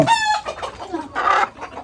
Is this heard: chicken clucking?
yes